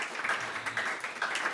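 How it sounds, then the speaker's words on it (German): Applause from a small audience at a German talk event with a police guest, light scattered clapping rising and falling in short bursts, fairly quiet and close. "Großer Applaus"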